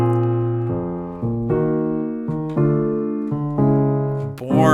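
A sequence of sustained chords sounds in a steady rhythm, a minor chord voiced without the flat seventh in the bass. Each chord rings for roughly a second, clear and close, with no talk.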